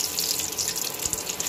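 Boiled potatoes, still slightly wet, go into hot oil in a kadai, setting off a continuous loud, hissing sizzle close by with no talking.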